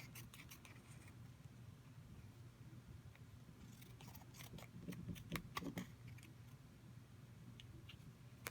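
Scissors trim the edges of an altered playing card, a run of small crisp snips and clicks clustered near the middle, close and quiet over a low steady background hum.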